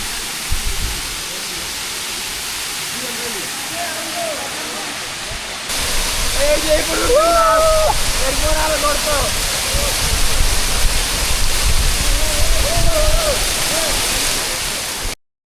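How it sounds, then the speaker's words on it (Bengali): Hamham waterfall deep in the Sreemangal jungle roars in a loud, constant rush of falling water, with people talking over it for much of the time. "আমরা এখন অবশেষে সেই হামহাম ঝর্ণায় চলে আসছি"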